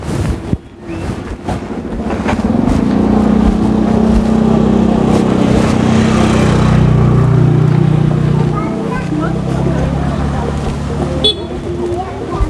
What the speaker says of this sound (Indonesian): Wah, ada motor.